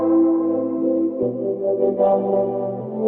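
A vocoder fed by a simple Serum synth as its external carrier produces a robotic, buzzy chordal tone with shifting formants like vowel sounds, steady and moderately loud, changing pitch once near the middle.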